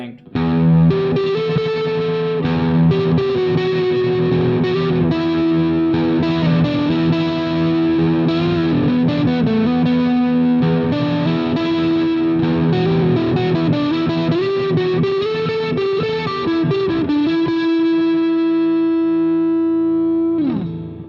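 An electric guitar played through a Fame Studio Reverb 50 watt tube amp with the reverb turned all the way up, playing a continuous loud distorted riff with a sustained lead line that holds its final note briefly.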